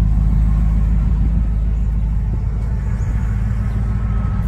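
A Pontiac's engine idles close by, its partly finished exhaust giving a steady, deep, throaty rumble with no talking.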